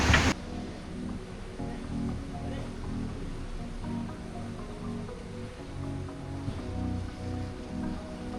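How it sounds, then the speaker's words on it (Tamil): Heavy rain pouring down during a motorbike group ride stop at a petrol station, a constant moderate hiss of rainfall with faint low background rumble, no clear talking. "மழை பயங்கரமாக பேஞ்சிட்ருக்கு, முடியல எல்லாராலையும்."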